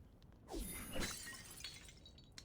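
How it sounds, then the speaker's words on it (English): A medicine bowl shatters in the video game Reverse: 1999, giving one sharp, close crack of breaking glass-like ceramic followed by a brief scatter of fragments over a quiet background. "Silver thread shoots in and knocks the medicine bowl from his hand. It shatters with a sharp crack."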